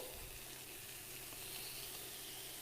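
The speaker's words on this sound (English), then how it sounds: "I love the sizzle." Steady, loud sizzling of veal frying in a hot pan, a continuous crackling hiss with no talking.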